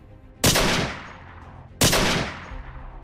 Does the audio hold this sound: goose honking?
no